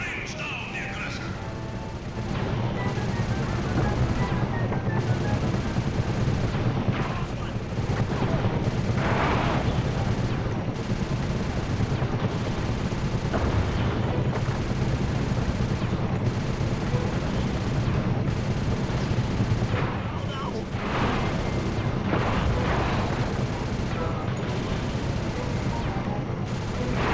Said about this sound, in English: Nice shooting, Bentley.